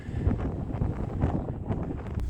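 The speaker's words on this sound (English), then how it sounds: "It's real windy." Strong wind gusting across open farmland, a steady broadband roar of buffeting, with no voices present.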